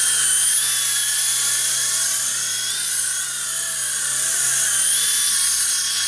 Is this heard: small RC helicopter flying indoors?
yes